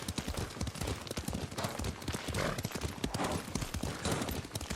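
Horse hooves clip-clop at a steady riding pace in the video game Ghost of Tsushima, dense and near, with faint background ambience and no speech.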